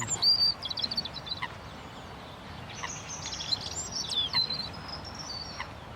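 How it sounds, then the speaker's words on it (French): A European robin sings high, thin, warbling phrases in short bursts, fairly distant against a quiet outdoor background in Paris. "Ah, nous avons un rouge-gorge, avec des notes très aiguës."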